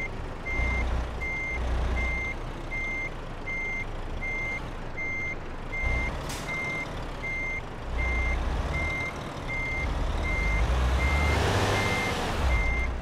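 A truck reversing in Euro Truck Simulator 2 gives off steady, evenly spaced backup beeps that repeat through the whole stretch over a loud diesel engine rumble.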